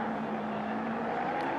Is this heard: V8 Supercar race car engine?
yes